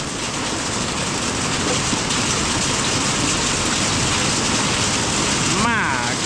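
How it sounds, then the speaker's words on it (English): Hail falling outdoors near a John Deere 5067E tractor, a dense, steady hiss of pellets striking surfaces that stays constant throughout, with a brief rising whine near the end. "Yep, it's hailing."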